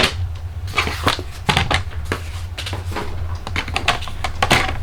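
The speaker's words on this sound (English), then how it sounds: "And we need a paper trimmer." A paper trimmer works through cardstock for a handmade card, with close scraping slides and clacking knocks in an uneven burst of handling noise over a low background rumble, and no voices.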